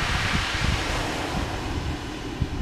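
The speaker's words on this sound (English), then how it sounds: "Hopefully we don't get too much wind interference because it's quite windy today." Steady wind gusting across a beach at Langney Point in Eastbourne during an overnight fishing session, a constant broadband rush with low buffeting rumbles against the microphone and no voices.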